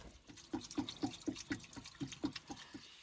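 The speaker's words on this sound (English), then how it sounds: "So we're filling up water, and unfortunately, it's hard to see, but we have a leak down there" Water trickling and splashing as it is filled into the engine of an old Chevrolet K5 Blazer, a quiet, close series of regular gurgling pulses, roughly four per second, with no talk.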